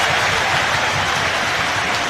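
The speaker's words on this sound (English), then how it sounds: "Round of applause." Steady, dense crowd noise like a large stadium audience clapping at a Premier League football match, loud and continuous throughout with no talking.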